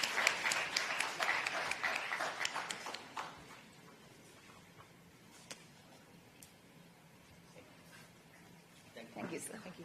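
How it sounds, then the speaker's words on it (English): An audience at a biotech innovation conference in Kerala gives a round of applause, crisp clapping strongest at the start and fading out, with a few scattered claps and murmurs afterward. "Ladies and gentlemen, please give a warm round of applause."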